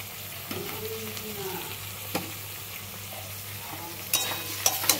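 Spices with ginger, garlic, tomato, chilli and turmeric sizzle and fry in a pan alongside potato and onion, with a steady frying hiss and occasional scraping stir clicks close by.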